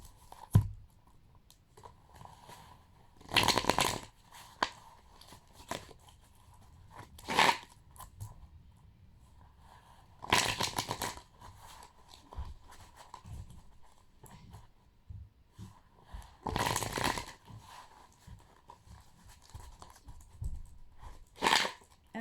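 A deck of oracle cards is shuffled and cut by hand, producing soft papery riffles and flicks in recurring bursts with quiet pauses between, close and gentle.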